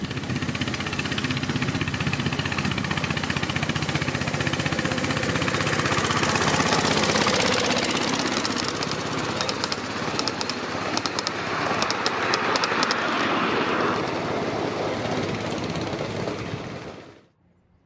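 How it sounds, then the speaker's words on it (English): Santa Fe Bluebonnet F unit diesel locomotives pull a passenger train past, giving a loud, steady engine roar with rumbling rail noise that holds for a long stretch before cutting off abruptly at the end. "From the looks of it, we've got Santa Fe Blue Bonnet F units out now."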